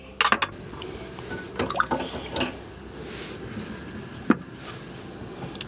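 Potatoes drop into a pot of cold water with a few sharp plops and splashes, clustered at the start and middle and followed by a single later splash, over quiet background noise.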